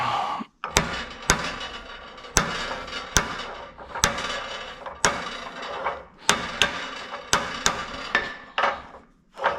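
A hammer strikes a truck's metal driveline in sharp, evenly spaced blows, about a dozen hits, close and loud with brief pauses between.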